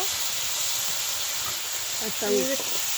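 Cabbage hits hot oil in a pan for a dense, steady hiss and sizzle that holds close and loud the whole time, with a brief voice near the end.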